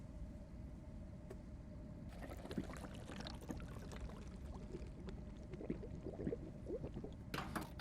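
Radiator water poured from a container in the driving game Drive Beyond Horizons, a soft continuous trickle and slosh under a low engine-like rumble, faint and steady with a brief clatter at the end.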